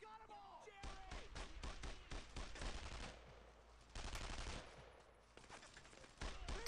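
Rapid bursts of machine gun fire from a video game battle, loud dense clattering volleys with short pauses, joined by heavier impacts and faint background voices.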